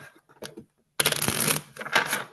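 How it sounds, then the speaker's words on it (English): A deck of playing cards being shuffled for a magic trick: a couple of soft riffles at first, then a dense, continuous papery flutter of cards for about a second and a half, close and fairly loud. "I'm going to shuffle my deck of cards"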